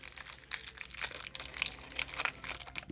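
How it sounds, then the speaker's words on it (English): Crinkly packaging is torn and crumpled open around a sealed 50-year-old Old Town typewriter ribbon made in Brooklyn, a busy run of close plastic and paper rustles and crunches with no speech. "Actually, I will unwrap it."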